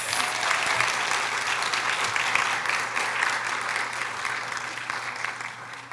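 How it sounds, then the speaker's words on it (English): Audience at a Students of Color graduation celebration gives graduates a sustained round of applause, dense and even clapping filling the room steadily throughout. "Let's give our graduates one more round of applause."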